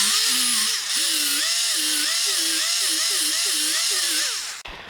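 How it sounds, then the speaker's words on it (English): A small die grinder runs steadily as it trims seat upholstery on a square-body truck seat. The whine is high and continuous, its pitch wavering up and down in repeated swoops as the load changes, and it cuts off abruptly at the end. "Now we'll do a little trim job here. .36 on my little die grinder."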